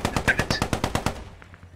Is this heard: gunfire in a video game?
yes